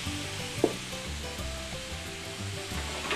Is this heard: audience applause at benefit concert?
no